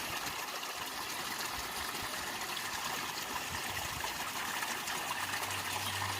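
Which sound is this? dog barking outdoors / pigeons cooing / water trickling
water trickling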